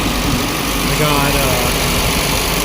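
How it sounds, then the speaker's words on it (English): A 2007 Ford Fusion engine idles steadily at a 1500 RPM fast idle, a constant close hum with a broad hiss on top and no breaks or speech. "I had the car running for a while out here"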